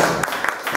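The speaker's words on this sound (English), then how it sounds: "give me a round of applause for Jackie." A brief burst of clapping for Jackie from the audience at a Circadia warehouse show, dense and fairly close, lasting under a second.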